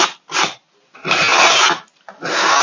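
Sandpaper rubbed over a painted, dried surface to distress the edges, in four rasping strokes: two short ones, then a long sweep and another stroke, close and fairly loud, with no talk.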